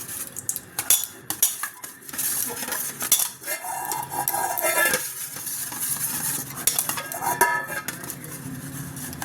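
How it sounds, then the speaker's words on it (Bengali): A bowl is greased with a little white oil in a home kitchen, bringing clinks and scrapes of utensils against the dish and stirring sounds that continue throughout at moderate volume without speech. "অল্প একটু সাদা তেল একদম সামান্য সাদা তেল দিয়ে নেব দিয়ে বাটিটাতে ভালো করে মাখিয়ে নেব"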